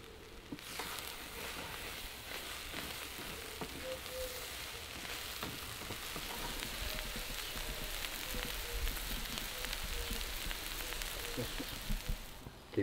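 Ground elder and wild garlic fry in a pan with a steady sizzle that grows louder and denser as they are stirred, with faint scraping and a clatter at the end.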